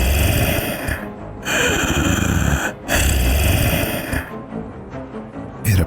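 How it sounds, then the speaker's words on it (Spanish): Heavy, rasping breaths come close and loud, a long harsh inhale and exhale repeated in uneven cycles with brief silent pauses between them. "podía escucharle hacer sonidos como de respiración,"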